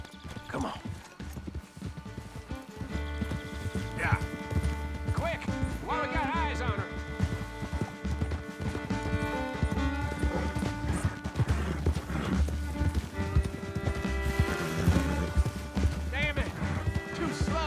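Horse hooves clip-clop at a steady gallop in the Red Dead Redemption 2 video game, loud and near for the whole stretch, with cattle lowing and horses whinnying around them and voices talking over the top.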